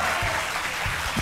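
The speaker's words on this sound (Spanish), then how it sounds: "Un aplauso para David Reynoso, nuestro invitado" A television studio audience applauds a guest with dense, steady clapping that runs the whole short moment without a break.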